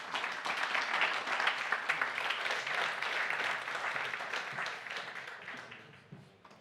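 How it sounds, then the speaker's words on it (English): Warm audience applause at a NATO defence policy event, a dense wash of many hands clapping steadily before tapering off near the end. "And give it a warm applause"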